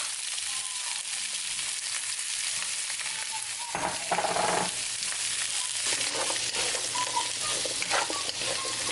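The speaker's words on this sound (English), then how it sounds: "So I put the garlic in, and I'm putting the peppers and onions first." Garlic, peppers and onions fry in a pan for a Spanish soup, giving a steady sizzle with spattering crackles, joined midway by louder scraping and stirring knocks.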